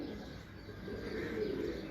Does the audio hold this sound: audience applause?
no